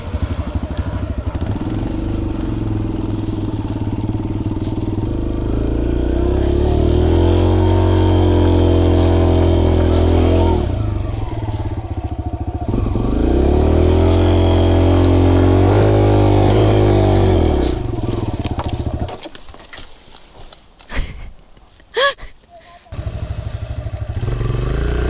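A Kawasaki KLX140 dirt bike rides nearby, its engine droning loudly and rising and falling twice as it accelerates and eases off, then fading into rough thumps and clatter near the end.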